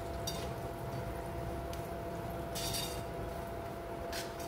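Metal utensils clink against a pan while masala for amla pickle is roasted, giving a few sharp, brief clinks over a quiet steady background hiss.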